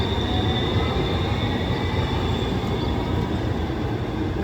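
A tram runs through downtown Houston, giving a steady loud rumble and rail roar that stays constant from start to end, with no voices heard.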